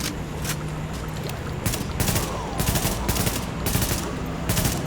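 Bursts of automatic gunfire from the video game Tom Clancy's The Division, with several rapid rattling volleys of shots following one another at steady loudness, no talk over them.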